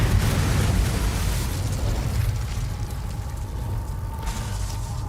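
A Bombarda blast spell from Hogwarts Legacy rumbles as a loud, deep explosion, its roaring boom washing out and slowly fading over several seconds with no voices.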